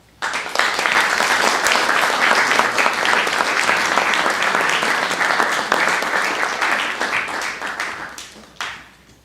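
An audience applauds to welcome author Erica Wagner at a library talk, a loud, dense burst of clapping that holds steady for several seconds before tapering off, with a final few claps at the end.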